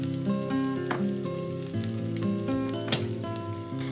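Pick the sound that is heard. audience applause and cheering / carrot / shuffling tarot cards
carrot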